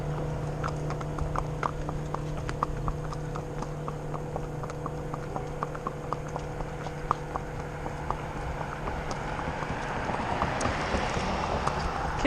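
Horse hooves clip-clop on a road at night in town, a steady even rhythm of hard hoof strikes over a constant low hum, with wind rising toward the end.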